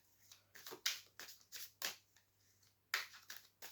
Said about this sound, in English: I'll carry on shuffling